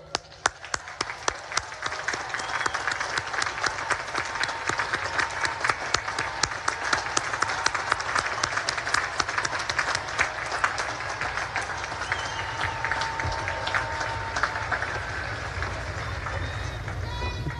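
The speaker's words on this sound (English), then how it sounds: "and give them a round of applause" Long, dense applause from a standing graduating class at a Naval Academy ceremony, hundreds of hands clapping in a steady roar with scattered voices mixed in, sustained throughout.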